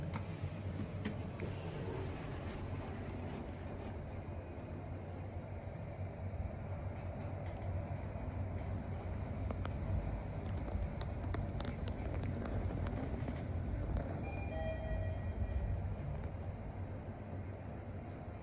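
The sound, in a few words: Mitsubishi traction elevator car running in a hotel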